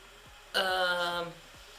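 A fart during a session of Grand Theft Auto V: one brassy, buzzing blast of roughly three-quarters of a second, moderately loud, standing alone over faint background hum.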